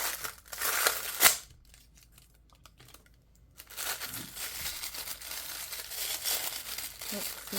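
Crinkly plastic packaging around a pack of small stickers is opened with loud, close rustling and crackling, one sharp crunch, then a quiet gap before steady crinkling resumes.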